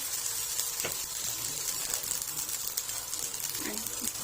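Rice sautéing in a pan with biryani spice mix, curry and turmeric gives a faint, steady sizzle with occasional stirring scrapes.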